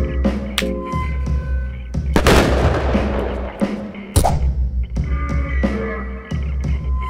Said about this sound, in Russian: Взрывной флакон.